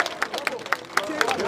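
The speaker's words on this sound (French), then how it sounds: "Applaudissez fort pour elle, s'il vous plaît." Audience applause at a political rally in Brussels, with quick ragged clapping from a crowd, mid-loud and steady throughout, mixed with murmuring voices and crowd noise.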